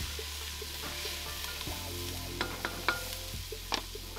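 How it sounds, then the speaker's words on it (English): Onion and garlic frying in a camp pot while being stirred, a steady sizzle with a low hum underneath and a few scraping clinks of the spoon near the end, close with no talk. "Just keep stirring your onion and your garlic so it doesn't stick to the bottom and get all burnt bits in it."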